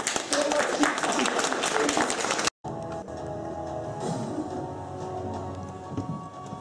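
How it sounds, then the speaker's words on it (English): Audience clapping during a school pirate play, a dense burst of applause that cuts off abruptly, followed by quieter stage sounds and talk. "If you believe, clap your hands."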